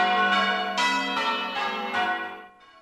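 Church bells ringing in England, several large bells struck in an overlapping peal with rich ringing overtones, strikes roughly every half second, loud and close, fading at the end, no voices.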